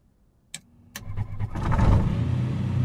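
A piston aircraft engine in a flight simulator game gives two sharp clicks, then cranks and catches, rising into a loud, steady, close-up rumble.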